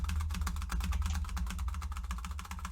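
Rapid, steady clatter of a computer keyboard's shift key pressed over and over to trigger sticky keys, close and fairly loud with no talking.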